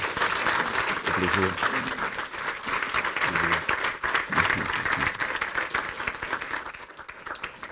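A church congregation applauds steadily and loudly in a French-speaking service, the clapping continuing throughout with a voice speaking over it.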